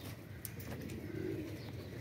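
Soft pigeon coos during pigeon flying, a low rolling call rising briefly above quiet outdoor background, with a few faint clicks.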